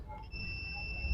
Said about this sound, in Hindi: और बीप का आवाज़ भी आपको सुनाई दे रहा होगा।